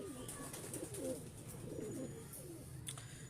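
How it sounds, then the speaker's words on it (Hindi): Several soft, throaty coos from Sialkoti pigeons roll in close succession, with light rustling and faint chirps behind them and no voices. "ये सियालकोटी कबूतर भी हबीब भाई के पास पड़े।"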